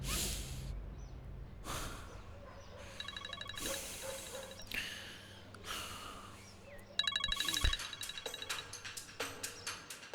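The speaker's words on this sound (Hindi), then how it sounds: "अब मलिका क्यों फोन कर रही है?" A phone ringtone chirps in repeated electronic bursts, with sharp breaths and faint background sounds between the rings.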